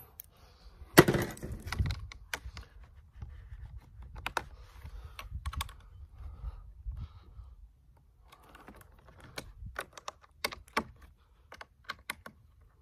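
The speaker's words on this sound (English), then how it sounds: "tighten them down." Nuts snugged down by hand onto lock washers holding plastic cupholder and shifter trim rings in a Toyota Tundra, giving scattered light clicks and taps with one sharper knock near the start, close and quiet.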